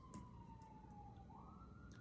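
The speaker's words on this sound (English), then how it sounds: "Pardon the sirens." A faint siren wails in the distance, its tone sliding slowly downward then rising again, over a low rumble of traffic.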